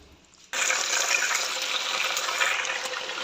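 Raw chicken, 1.5 kilos, dropped into a cup of hot oil in a pot for a chicken masala handi, setting off a sudden loud, steady hiss and sizzle that carries on evenly.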